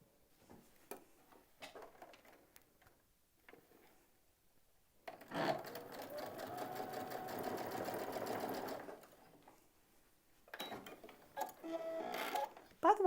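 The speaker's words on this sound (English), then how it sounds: "we're going to sew these." Sewing machine stitching quilt fabric pieces placed right sides together, running in a steady whirring burst for about four seconds, then a second shorter run, with quiet handling taps between.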